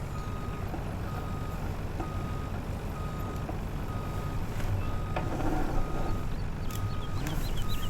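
Lorry reversing over a silage pit in the farming game Farming Simulator 19, a steady engine drone under a faint repeating reverse beep, with fuller rumbling toward the end.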